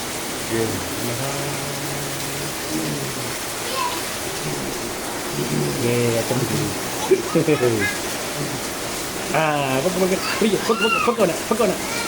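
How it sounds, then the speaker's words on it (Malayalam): Steady rain hisses as a constant wash of noise, while people's voices talk and call over it throughout. "മഴ"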